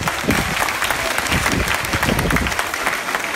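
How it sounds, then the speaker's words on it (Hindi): Loud, dense applause fills a school annual day function as the audience claps for teachers, a continuous close roar of many hands with no pauses. "इनके लिए जोरदार तालियां।"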